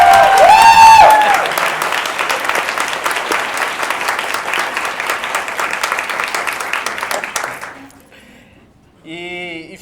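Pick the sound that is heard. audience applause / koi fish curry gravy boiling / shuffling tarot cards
audience applause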